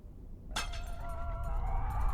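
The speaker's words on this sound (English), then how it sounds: "I hear distant sounds of ceramic crashing and tables flipping over." Ceramics crash and break in a video game, a sharp shattering impact followed by ringing, tinkling debris that lingers for over a second under a low rumble.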